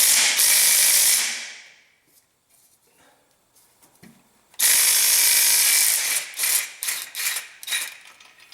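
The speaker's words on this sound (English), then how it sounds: "I should loosen the start motor off this." Ratchet loosening starter motor bolts on a Hyundai, two loud, close bursts of rapid clicking separated by a quieter stretch of small knocks and handling noise.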